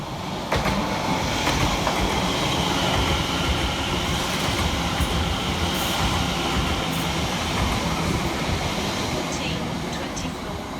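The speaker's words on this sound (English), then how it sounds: "London Overground, service to London Liverpool Street." A London Overground train at White Hart Lane station rumbles loudly and steadily close by for the whole stretch, with a broad, continuous rolling roar and faint rail clatter.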